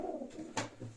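Young pigeons in a breeder's loft give a short, soft coo close by, a brief throaty murmur lasting about a second.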